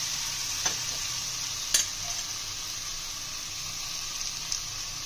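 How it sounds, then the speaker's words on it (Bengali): Raw jackfruit and potato fry in spices in a pan, a steady close sizzle with a few sharp scrapes and clacks of a stirring spoon, no voices over it. "মশলার সঙ্গে একটু একটু কষিয়ে কষিয়ে নিয়ে চিংড়ি মাছগুলো দিয়ে দেবো।"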